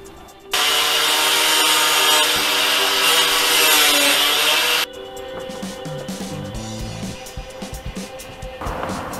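PVC being cut with a power saw while building a custom gigging and wading rig for a kayak, with a loud harsh buzz for about four seconds, then quieter scraping and handling noises.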